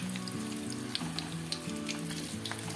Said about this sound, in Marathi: बारीक गॅसवरच व्यवस्थित सगळ्या बाजूनी फ्राय करून घ्यायचं आहे